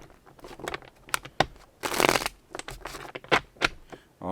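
Tarot cards being shuffled up close in quick, papery bursts of riffling and scraping, with a louder flurry midway and no talking.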